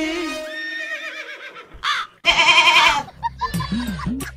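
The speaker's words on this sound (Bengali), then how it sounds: "ছাগলটা তো ভালোই, বিক্রি করবে না?" A goat bleats loudly nearby with wavering, drawn-out cries, several calls in a row, mixed with voices.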